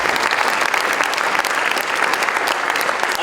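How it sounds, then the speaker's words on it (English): Audience at a community program applauding, loud sustained clapping from a large crowd that holds steady throughout. "So let's applause for everybody here in the audience."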